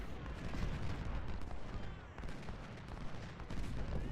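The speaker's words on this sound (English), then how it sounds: "Of course, I have no idea who my men are volleying at because they're not hitting anything." Musket volleys crackle and rumble in the video game Ultimate General: Civil War during an assault on a fort, a dense, continuous roll of distant gunfire and cannon booms.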